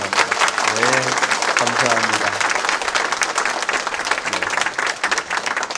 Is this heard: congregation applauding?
yes